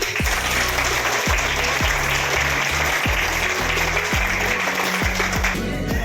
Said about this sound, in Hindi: मैं चाहता हूं आप सभी लोगों की एक जोरदार तालियों